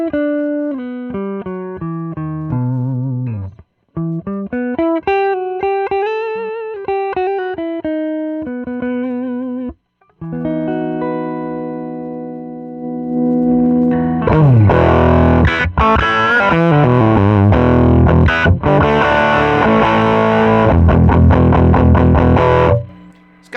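An electric guitar plays through a modded 1964 Gibson GA-5T Skylark amp with a 0.047 microfarad coupling capacitor, clean single-note melodic lines first, then loud, distorted chords with low-end growl, alone and up close.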